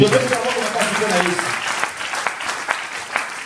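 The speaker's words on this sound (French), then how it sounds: "Acclamons très fort." A church congregation claps loudly in a burst of applause that gradually thins into scattered claps, with a voice heard over it.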